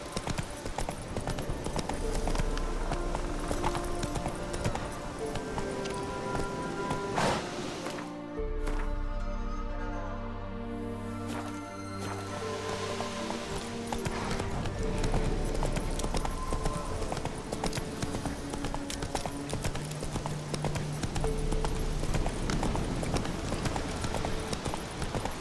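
Horse hooves in The Witcher 3, a steady clip-clop gallop running almost continuously and fairly close under a game soundtrack, with a short quieter break near the middle.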